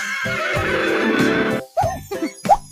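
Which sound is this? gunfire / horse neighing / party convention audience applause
horse neighing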